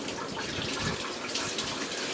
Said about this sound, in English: Get you some nice hot water going.